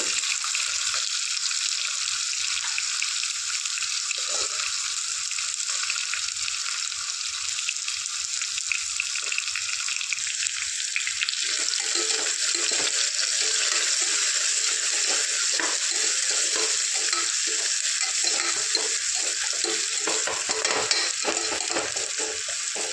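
Sliced onions sauté in oil in a pan for vegetable biryani, giving a loud, continuous sizzling hiss with occasional stirring scrapes and no talk.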